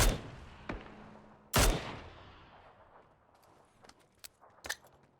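Gunfire in PUBG: a loud nearby shot, a sharper crack, then a scatter of faint, distant single shots with long decaying echoes.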